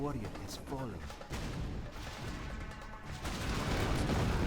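Rocket launchers firing in a Command & Conquer Generals mod, a rapid series of distant booming shots and impacts rolling under game noise while a voice talks over it.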